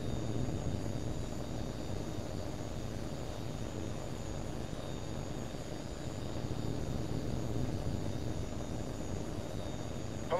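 A Eurofighter Typhoon flies in the H.A.W.X. 2 video game with a continuous low engine roar and rumble that holds steady and unbroken throughout.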